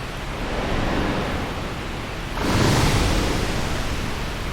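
Rushing waterfall in Dark Souls Remastered, a steady broadband roar of falling water heard alone with no voices, swelling louder partway through as if drawing nearer.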